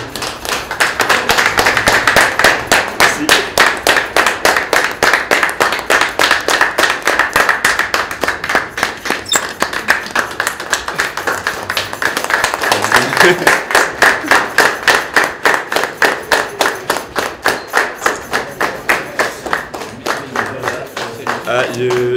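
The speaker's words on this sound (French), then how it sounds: "Je suis vraiment ému par tous ces applaudissements." Sustained audience applause in a hall at the Maison du Bénin in Paris, dense rapid clapping from many hands, loud and continuous throughout, swelling slightly midway.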